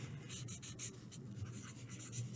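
A marker squeaks and scratches in quick short strokes while words are written out for a craft project, faint and close with no talk.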